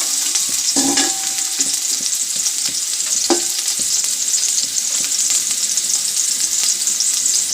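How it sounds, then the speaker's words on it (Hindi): Onions frying in hot oil give a steady loud sizzle, broken by a couple of sharp clinks of a utensil stirring the pan. "प्याज को हल्का फ्राई करेंगे।"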